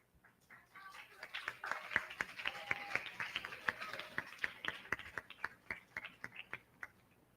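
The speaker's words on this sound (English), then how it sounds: "So, again, an applause for all of them." Scattered clapping from a small audience honoring the participants of an 8th and 9th grade spelling bee, sharp individual claps building into a moderate ragged round that thins out toward the end, fairly faint and roomy.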